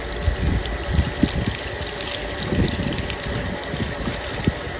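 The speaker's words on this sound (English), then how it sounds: "that's the hose, so turn it down to go to hand wash, and that's fully on, and that's a nice stream" Garden hose running fully on in a nice stream, a steady close rushing hiss of water with faint splashes and soft low thumps throughout.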